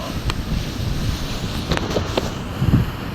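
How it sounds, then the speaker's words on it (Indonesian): Ocean waves roaring on a beach by a red island, heard as a steady broadband wash of surf with heavy wind buffeting the microphone and no talking. "Suarane gembleger ya guys, ombak."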